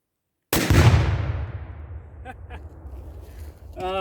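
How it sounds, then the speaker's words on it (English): An Apple laptop packed with Tannerite explodes when shot outdoors: one loud, sudden blast that decays into a long rumbling tail, followed by faint scattered sounds. "It's still a really badass explosion"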